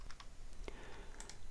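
Someone types on a computer keyboard, entering a question name: a short run of quiet, close key clicks at an irregular pace, with no talking.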